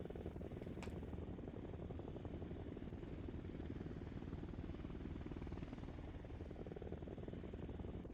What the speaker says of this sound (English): Oh, hey, it's the helicopters.